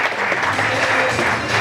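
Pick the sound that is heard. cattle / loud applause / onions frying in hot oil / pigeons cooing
loud applause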